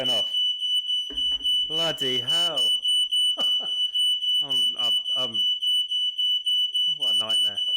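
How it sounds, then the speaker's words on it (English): A smoke alarm tripped by heat gun use at a screen-printing bench holds a constant piercing tone throughout, while someone speaks in short exclamations over it. "alarm's going off."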